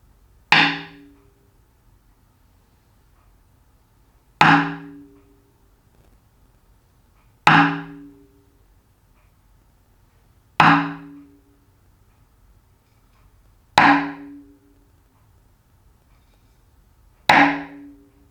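A taiko drum rim is struck six times with the bachi held deeper along the stick, each a sharp, woody click with a short ringing tail, evenly spaced about three seconds apart and heard alone.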